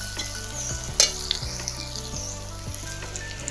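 Oil with turmeric sizzling steadily in a pan before greens go in, a close crackling fry with occasional soft scrapes of a spatula.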